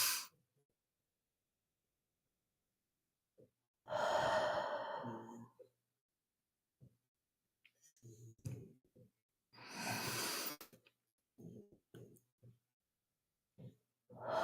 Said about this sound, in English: We're gonna do a little bit of box breathing